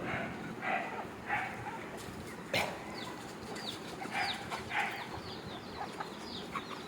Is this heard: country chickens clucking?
yes